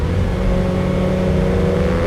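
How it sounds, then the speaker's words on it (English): A loud, steady engine roar with deep harmonic tones, the V12 of a 1973 Ferrari Daytona held at high revs throughout, no voices. "there is no sound finer than a Ferrari 12-cylinder."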